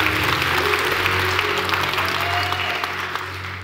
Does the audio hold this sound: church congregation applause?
yes